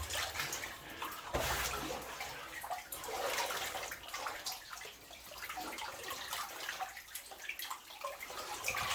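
Water falls and drips inside a flooded 1878 mine, a continuous faint splashing trickle with irregular drips echoing in the underground space.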